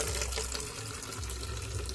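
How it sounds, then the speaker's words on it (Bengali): A thin stream of water runs steadily into a bucket, a continuous close splashing hiss that stays even throughout, with no voices. "বালতিটা ভরে গেছে, সরু জল পড়ছে তো"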